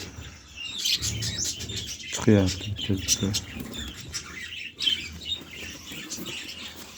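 German breed birds and their chicks give scattered chirps and sharper squawks close by, while people talk throughout.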